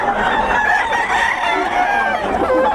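Fighting roosters at a farm in Bocaue clucking and crowing loudly and close, overlapping calls filling the whole stretch.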